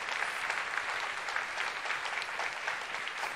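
Sustained applause from a church congregation during a service, a dense, steady wash of many hands clapping with no voices over it.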